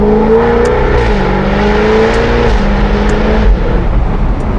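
A Jaguar F-Type R engine drones loudly and close, its pitch stepping down and rising again in short surges as it revs through downshifts.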